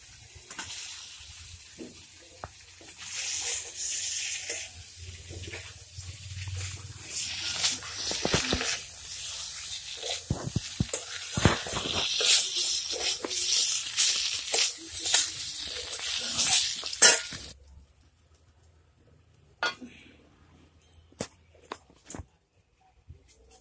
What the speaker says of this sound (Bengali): এখন ফুলকপিটা দিয়ে দিব।